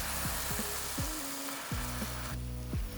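Onions sizzling steadily in a hot pan after red wine is poured in, a dense constant crackle with a few scraping stirs, close and unbroken.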